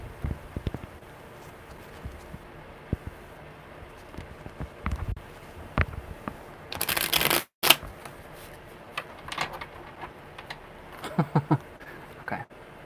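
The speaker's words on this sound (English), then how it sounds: "Okay, one more good shuffle because that sucked." A deck of tarot cards is shuffled over and over at close range, with quick papery flicks and taps in irregular clusters and one long, loud riffling burst in the middle, all in a quiet room.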